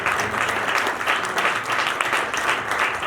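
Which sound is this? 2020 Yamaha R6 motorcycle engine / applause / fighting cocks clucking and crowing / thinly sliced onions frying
applause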